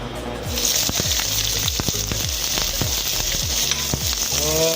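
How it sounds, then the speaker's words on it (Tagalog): Chopped onions sautéing in a pan for a spinach dish, a bright steady sizzle with repeated scraping clicks of a utensil stirring against the pan. "gisa-gisahin lang natin yung sibuyas ng konti"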